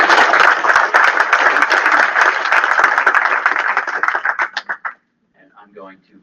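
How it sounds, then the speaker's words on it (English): Audience applause closing a session at a Gulf ocean science members' meeting, a thick burst of clapping that thins into scattered claps and stops, followed by a brief murmur of voices. "So give them a round of applause."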